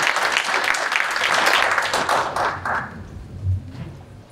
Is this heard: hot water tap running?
no